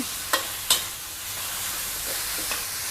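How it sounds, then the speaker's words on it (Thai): Slightly fatty minced pork stir-frying in a hot pan for stir-fried morning glory, a steady close hiss broken by two sharp spatula knocks early on, then quieter scraping. "ในระหว่างที่เราผัดอ่าหมูค่ะ"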